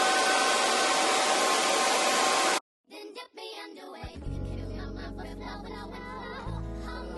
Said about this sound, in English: get my blow dryer on cool air to keep it down.